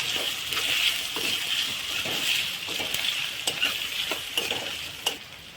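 Sabudana khichdi fries in a pan as potatoes are stirred in, giving a steady sizzle with repeated scraping spoon strokes close by.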